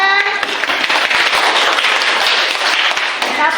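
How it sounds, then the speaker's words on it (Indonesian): A school class applauding together in a classroom: a dense burst of many hands clapping, close and fairly loud, steady for a few seconds. "tepuk tangan."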